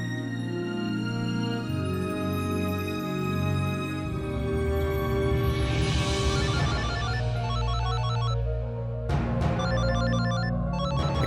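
A phone ringtone plays loudly and steadily as a melodic electronic tune with layered tones, repeating for several seconds with a brief pattern change near the end; no one speaks over it.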